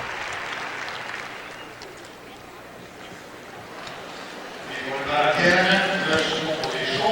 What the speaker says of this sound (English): you can hear by the reaction of the crowd. They don't like these marks.